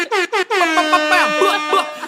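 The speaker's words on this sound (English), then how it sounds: "Can I get an air horn real quick?" An air horn blasts twice in short bursts, then once in a long, loud sustained honk that wavers slightly before cutting off.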